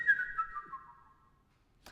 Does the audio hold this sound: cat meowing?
no